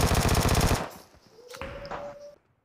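Victor submachine gun in the mobile battle royale BGMI firing a loud, rapid automatic burst for just under a second, followed by quieter game sounds and a rising tone.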